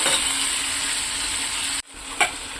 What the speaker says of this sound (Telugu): ఇప్పుడు ఎండు చేపలు కూడా కడిగేసి పక్కన పెట్టుకున్నాను. వీటిని కూడా కొద్దిగా సేపు ఆయిల్లో ఫ్రై చేసుకుంటే